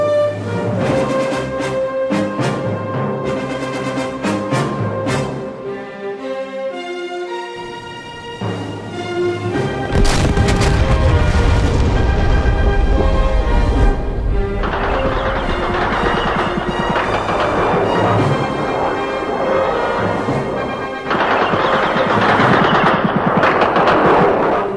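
Anti-aircraft guns hammer away and bombs fall during an attack on Stanley Airfield in the Falkland Islands in the DCS flight simulator: loud rapid machine-gun bursts, then heavy booming impacts and dense sustained gunfire.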